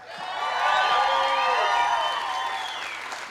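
Applause from an audience at a live music show in Calgary, steady clapping mixed with crowd cheers and a few whoops, swelling early and holding loud before easing slightly toward the end.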